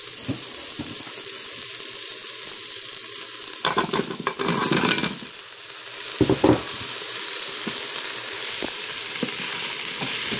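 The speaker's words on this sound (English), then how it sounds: "So I'm just going to stir those around and let them saute just a bit." Sweet potatoes sauteing with onion and garlic in an Instant Pot give a steady close sizzle, broken by louder bursts of stirring and scraping around the pot partway through.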